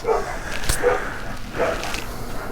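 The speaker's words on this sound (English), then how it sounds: "that dog just loves to be difficult as soon as I turn the camera on. It didn't bark until I started doing this." Dog barks in short bursts, a few separate yips and woofs spread across a moment, fairly close and moderately loud over background noise, during work installing a tube in a tractor tire.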